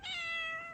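A single clear cat meow, short and fairly quiet, with no other sounds around it.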